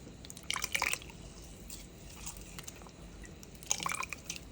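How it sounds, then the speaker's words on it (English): Grated coconut pulp squeezed by hand in warm water to press out the milk, two brief bursts of wet squishing and dripping separated by a quiet pause, close and faint. "Now we're gonna squeeze the milk out of the coconut."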